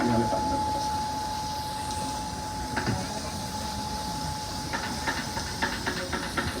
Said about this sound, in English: So, just nicely we're gonna saute them.